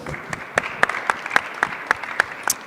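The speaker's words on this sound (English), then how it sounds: "Let's give these guests a round of applause here." An audience at an agtech investment summit applauds the guests, giving a steady round of clapping that sounds like a moderately sized crowd and stays dense and even for the whole stretch.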